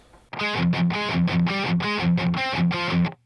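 A distorted electric guitar plays an alternate-picked riff from a song, repeated chugging notes, loud and close, with no voices.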